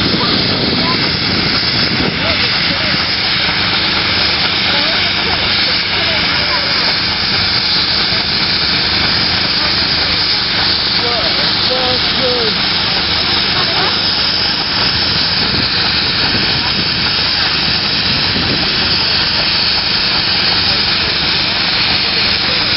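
An 1882-built McLaren steam traction engine pulls a 100-ton load at a rally, a steady, loud engine rumble with hissing throughout, while people talk over it outdoors.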